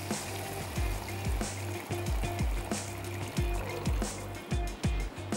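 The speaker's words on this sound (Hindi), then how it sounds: "चार कप हमने इसमें ऐड कर दिया गरम पानी।" Four cups of hot water poured into a cooking pot with salt while making a kebab platter, a steady liquid splashing and filling with repeated low gurgling pulses throughout.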